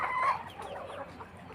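Several chickens cluck close by, a short run of throaty, uneven calls that begins loudest and trails off into softer murmurs.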